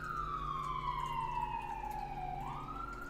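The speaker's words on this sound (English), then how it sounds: "Got some good sirens going." Emergency sirens pass outside, a continuous wailing tone sweeping slowly down then back up, steady and fairly prominent over a low background rumble.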